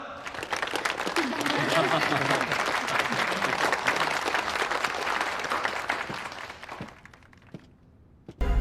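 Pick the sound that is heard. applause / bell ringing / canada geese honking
applause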